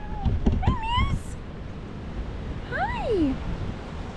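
A cat meows near a beach, a few rising and falling meows up close over constant wind and surf noise, with a person's voice briefly mixed in at the start.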